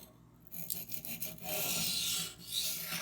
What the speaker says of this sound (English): I'm just going to sharpen at my standard edge angle, which usually measures around 18 to 20 degrees depending on the knife.